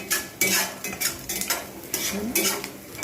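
Eggplant frying and being stirred in a pan for a Bengali bread pulao, with repeated metal utensil scrapes and clinks in an uneven rhythm over a soft sizzle, close by and alone.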